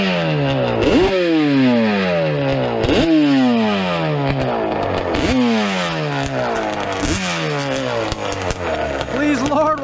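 A Yamaha Banshee ATV fitted with cheap Amazon carburetors revs hard in repeated rising and falling bursts, a loud, raspy two-stroke engine note climbing and dropping about every two seconds up close.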